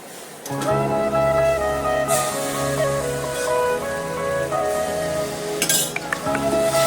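Sugar syrup being stirred into a ghee mixture in a pan: bright metallic clinks and scraping of a spoon against the vessel, sometimes rapid and sometimes sparse, close up over a constant tonal hum.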